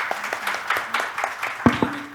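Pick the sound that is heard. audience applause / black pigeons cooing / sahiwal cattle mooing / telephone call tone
audience applause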